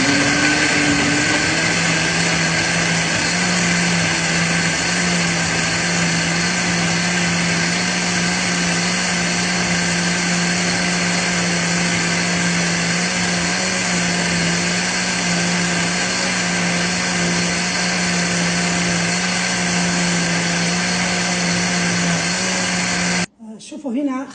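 An electric blender whirs steadily for more than twenty seconds while it purees a whole orange with the peel on for an orange cake. The motor whine is loud and constant, then it stops abruptly near the end, and a voice speaks over it.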